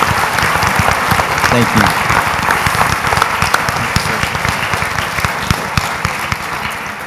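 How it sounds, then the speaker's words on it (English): An audience at an evening talk applauds after a research presentation, a dense, steady wash of many hands clapping at close range, with a brief spoken thanks over it. "Let's give him a round of applause."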